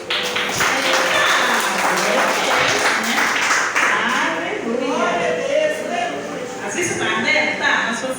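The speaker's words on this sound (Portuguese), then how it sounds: "Dá uma salva de palmas para o Senhor nessa noite" Church congregation clapping during an evening worship service, a dense round of applause mixed with voices and shouts from the crowd, with talking and calling out throughout.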